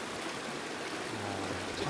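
A mountain stream in a rocky valley in Yangyang, Korea, in spring, flowing over stones with a steady, close, even rush of water that continues unbroken throughout.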